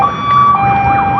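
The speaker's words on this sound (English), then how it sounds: "Give him a siren." A police car siren wails loudly and steadily at close range during a traffic stop, its pitch sweeping up and down in a continuous cycle.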